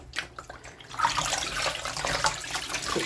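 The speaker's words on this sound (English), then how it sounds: "put some water in it" Water is poured into a bottle of Stay Flow starch: after a quiet start, a hissing, splashing stream begins about a third of the way in and runs on steadily at moderate volume.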